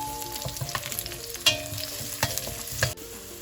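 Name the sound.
potatoes and onion frying in a pan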